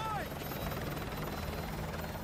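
A helicopter in Call of Duty: Modern Warfare 2 Remastered on PS5 whirs with steady, loud rotor thumping throughout, and a voice is heard briefly at the start.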